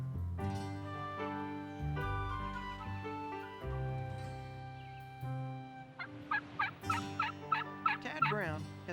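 Wild turkey, a spurred two-year-old gobbler, gobbling in rapid rattling bursts toward the end, loud and close, after a stretch of steady, tonal, call-like sounds.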